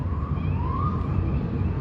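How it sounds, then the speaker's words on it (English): Police siren wailing at a distance across a city waterfront, a faint rising-and-falling tone drifting over steady outdoor background noise, with no voices. "and I hear sirens"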